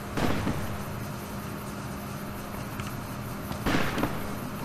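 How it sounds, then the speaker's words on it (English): Two bursts of gunfire in Fallout New Vegas, one at the start and one near the end, standing out over a steady low rumble of game ambience. "He's still shooting at people."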